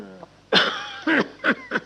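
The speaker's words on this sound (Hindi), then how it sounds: "अधिक बोलने से आपको खांसी उठती है" A few short, harsh coughs in quick succession, close and fairly loud, after a brief voiced sound at the start.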